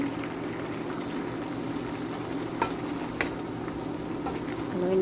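Frying food with soy sauce sizzles steadily in a pan while it is stirred, with a few soft scrapes and taps from the utensil. The sound is moderate and close, with no talking.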